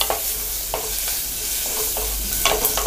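Whole small shallots with asafoetida sautéing in hot oil for moong dal sambar, a dense steady sizzle broken by repeated close spatula scrapes and stirs.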